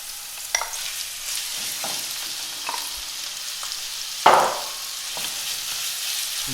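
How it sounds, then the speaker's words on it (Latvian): Steady sizzling of chicken frying over high heat in a hot pan for noodles, with occasional clatters of stirring and one louder sputtering burst partway through. "Visu vajag vismaz cept pāris minūtes uz karstu uguni."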